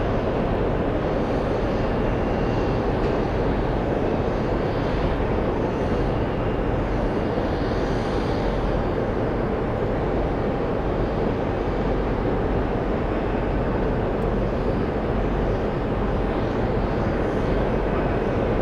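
Aircraft arriving at JFK airport in New York, heard as a steady broad roar that holds for the whole stretch, with some wind buffeting on the microphone and no speech.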